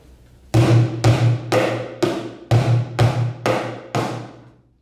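Bucket drums beaten in a repeating rhythm in 7, with eight sharp, booming hits in uneven groupings, each ringing out with a hollow, resonant low tone, loud and close with no voices.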